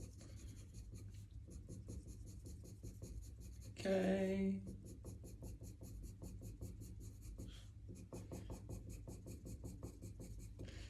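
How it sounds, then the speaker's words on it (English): Coloured pencil shading on paper during a single-colour toning study, heard as a steady soft scratchy rasp of the lead across the sheet that runs almost continuously, with a brief spoken word partway through. "all I'm actually doing is swapping the tone of pencil"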